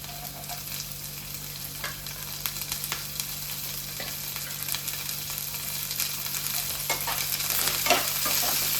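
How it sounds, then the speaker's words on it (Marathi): Masala with freshly added green chillies sizzling and frying in a pan while being stirred, a steady close crackle with occasional scraping under a faint hum, no voices. "आता इथे व्यवस्थित एकदा परतून घेऊया."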